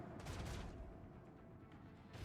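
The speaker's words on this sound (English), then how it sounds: "I don't like these Pyros melter cannons." Melter cannons firing in the Rogue Trader video game, a faint, distant burst of rumbling blasts with a roaring hiss, quiet and steady throughout.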